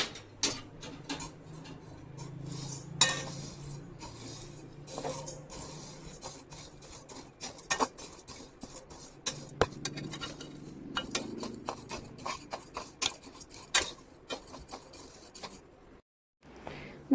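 Washed and dried grains being roasted and stirred in a pan over medium to low heat, a steady run of light scraping clinks and rattling patter from a spoon against the pan.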